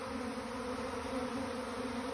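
A swarm of bees drones in a steady, continuous hum, fairly soft and even throughout, with no voices over it.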